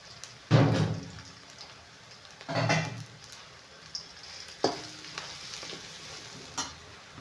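Turmeric powder is stirred in hot oil: three or four scraping bursts over a steady, soft sizzle, with a few light knocks of the utensil against the pan.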